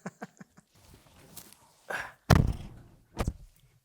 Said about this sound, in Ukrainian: Натисни кнопку відкривання дверей мені.